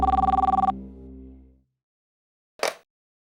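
A telephone rings in a Hindi TV crime drama: a short run of rapid, bright bell pulses that stops abruptly and fades out, followed after a pause by a brief click-like noise, with no voices.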